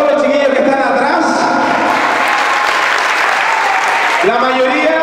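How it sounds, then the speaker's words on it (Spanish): An event audience claps loudly for young first-time instructors, with sustained applause and cheering voices layered over one another, while a voice carries through the mix near the end. "les pido un fuerte aplauso para todos los chiquillos que están atrás."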